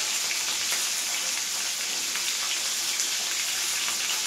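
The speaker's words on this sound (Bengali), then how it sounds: "আমি এটাকে হালকা ভাজবো" A hilsa fish head frying lightly in hot oil, a steady close hiss and crackle of sizzling with no voices over it.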